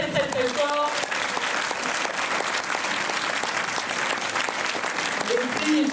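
An audience in a cinema applauds a youth jury of young women at a film screening, with loud, continuous, dense clapping. A few faint voices are heard at the start and end.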